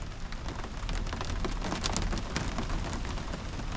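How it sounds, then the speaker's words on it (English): Steady heavy rain pattering on a truck camper at night during a thunderstorm warning, dense and continuous, with no voices. "It's raining pretty good out there."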